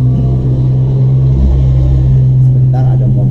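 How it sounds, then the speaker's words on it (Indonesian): A car passes by on a road beside a photocopy and stationery shop, a loud low engine rumble with a steady hum, swelling briefly as it goes past. "Ada mobil lewat ya."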